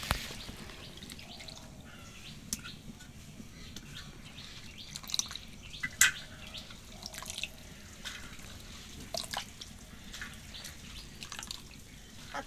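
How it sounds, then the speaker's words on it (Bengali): Cut onion stalks washed in water, with soft splashes, drips and trickles over a quiet steady hiss, plus occasional sharper taps and clinks from handling. "আর জল দিয়ে ভালো করে এখন ধুয়ে নেব।"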